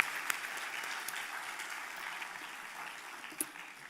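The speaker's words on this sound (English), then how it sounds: "Please give yourself a big round of applause." A university orientation audience claps together, a soft, even patter of many hands heard from some distance, steady and fairly quiet with a few sharper individual claps standing out.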